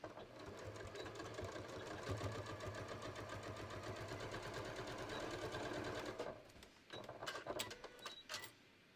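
A sewing machine runs steadily for about six seconds, stitching a garment's bottom edge during shorts construction, with a rapid even needle rhythm close up, then stops and a few short handling clicks and taps follow.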